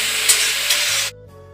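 Marinated meat sizzles and hisses in a cooking pot while it is stirred at home, with soft scraping bumps. The sound cuts off abruptly after about a second, leaving a low background hum.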